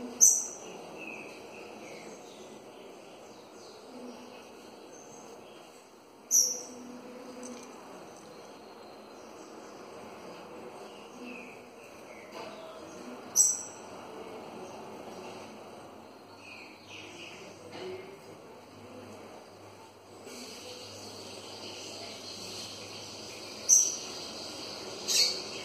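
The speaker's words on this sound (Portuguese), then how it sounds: "Passarinho, quando tá frio, ele dá essa enrolada no canto." A coleiro seedeater sings short trilled phrases every few seconds in cold weather, faint and somewhat distant, over a steady background hum of insects.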